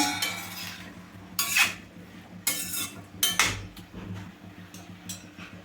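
Potatoes frying over medium flame are stirred in a pan, giving several bright metallic scrapes and clinks of a spoon against the pan at irregular intervals, close and fairly clear with no talking.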